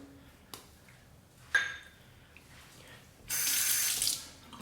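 A bathroom tap runs as a razor is rinsed, with a steady hiss of water for about a second near the end, preceded by a few faint knocks and splashes in an otherwise quiet room.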